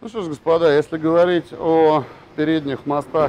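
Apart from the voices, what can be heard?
No everyday noises stand out.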